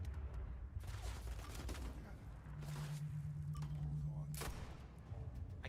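Gunfire in a first-person shooter video game: scattered bursts and single shots at varying distances, with a sustained tone midway and one sharp loud blast near the end, mixed under game sounds.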